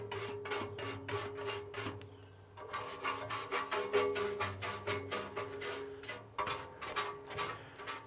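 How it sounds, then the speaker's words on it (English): A toilet brush scrubs the inside of a Yoder YS640S pellet grill in quick, rhythmic rasping strokes, close and moderately loud, with a short pause partway through. "the great thing about using a toilet brush is it's got a rounded head so I can get in the corners"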